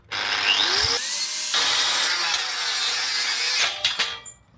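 A Crown CT13667 angle grinder whines loudly at high pitch, its tone dropping and recovering as the disc is deliberately jammed in a kickback test, then cutting out with a few clattering knocks.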